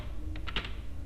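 Several quick keystrokes on a computer keyboard, close and fairly soft, clustered in a short burst within about a second.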